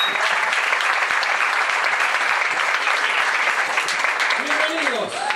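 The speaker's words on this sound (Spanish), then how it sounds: "Un aplauso fuerte por este encuentro, por favor." An audience at the opening of a dance event applauds loudly and continuously, a dense, even wash of clapping that holds steady throughout with a brief tonal sweep near the end.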